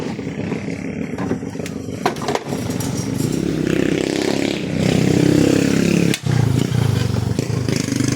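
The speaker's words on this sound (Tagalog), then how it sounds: "asang motor na po tayo" A motorcycle engine running steadily and loudly near the listener, with rough revving swells and some clattering, no voices.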